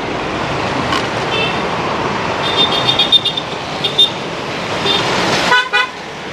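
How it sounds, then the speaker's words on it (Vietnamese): Dense street traffic on Tran Hung Dao in Saigon's District 1, a steady roar of motorbikes and cars with repeated short horn toots near and far, loud and continuous throughout. "xe cộ tấp nập quá, nguy hiểm quá."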